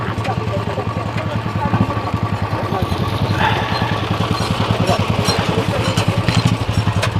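Motorcycle engines rumble steadily with a rapid, throbbing idle at Zojila Pass, a high mountain pass at 11,649 feet, as bikers from Kerala gather; the engine noise is loud and continuous, with voices talking over it.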